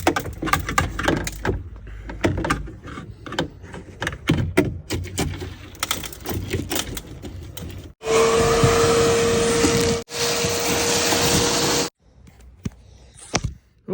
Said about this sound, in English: Now we're working on vacuuming glass.